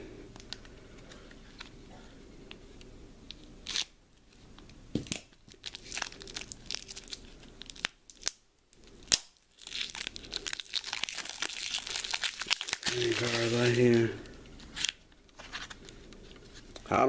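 Wrapping on packs of playing cards is torn open in bursts of crinkling and ripping, loud and close, with gaps between pulls and a sustained crackle near the end.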